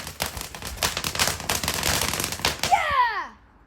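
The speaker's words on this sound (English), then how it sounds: "This is a sort of firework in the middle." New Year fireworks crackle and pop in rapid bursts close by, ending in a whistling, screeching rocket, with excited voices mixed in.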